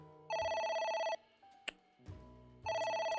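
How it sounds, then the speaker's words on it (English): A persistent electronic phone ring from AI: The Somnium Files repeats in two loud trilling bursts. A sharp click and softer game sounds fall in the gap between them, with no talking. "It won't stop ringing."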